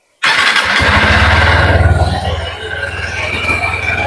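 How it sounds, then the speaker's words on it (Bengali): A Honda Hornet 2.0 motorcycle engine cranks and catches after a brief silence, then the exhaust settles into a loud, throbbing idle close by. "আপনাদেরকে এখন আমি একটু এর সাইলেন্সার আওয়াজ শোনাবো।"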